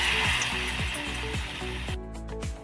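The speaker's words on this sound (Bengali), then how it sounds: "বাইরে তেল গরম হয়েছে, এক এক করে দিয়ে দিব।" Gram-flour-coated pointed gourd pieces frying in hot oil, a continuous close sizzle with regular hard knocks and clatters repeating about every quarter second, no talking.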